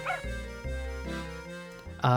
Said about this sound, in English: The little robot dog is finally assembled.